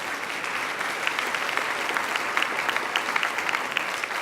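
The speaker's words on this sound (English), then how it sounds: "Please give those folks a round of applause." A banquet-hall crowd at an awards show gives a round of applause, a loud, dense wash of clapping held steady throughout with a few sharper claps standing out.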